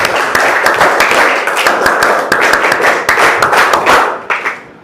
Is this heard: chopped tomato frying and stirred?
no